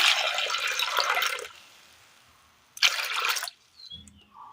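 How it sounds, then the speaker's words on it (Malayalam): Water pours in two bursts with a pause between, a splashing gush into a vessel followed by a few small clinks. "ഒരല്പം വെള്ളം ഒഴിച്ച് കൊടുക്കാം"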